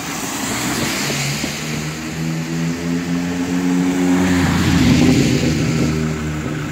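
Cars speed past on a road without a pedestrian crossing, a steady, loud rush of engine and tyre noise that swells toward the end as a vehicle passes close.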